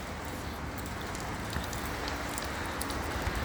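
Steady rain falls around a building under construction, a dense even hiss of drops with scattered sharper patters, continuous and fairly close with no voices.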